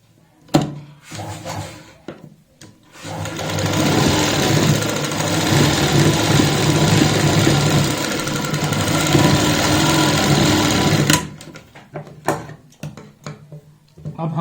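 Sewing machine stitching buckram along a kurti neckline runs in one continuous loud burst of about eight seconds, flanked by short clicks and handling knocks before and after.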